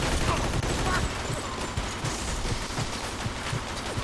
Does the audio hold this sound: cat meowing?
no